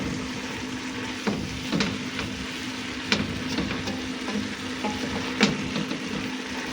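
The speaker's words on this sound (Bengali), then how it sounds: "এইভাবে কিছুটা সময় আমি ভেজে নিব" Beef and mixed vegetables frying in a pan, with a steady close sizzle and crackle throughout and a few louder spatters and stirring scrapes at intervals.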